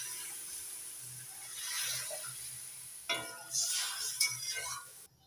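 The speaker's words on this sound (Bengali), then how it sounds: "এবার দিয়ে দিচ্ছি জল।" Water poured into a pan of fried moong dal with tempering: a soft stirring sizzle, then a sudden loud hissing burst that surges and fades in waves.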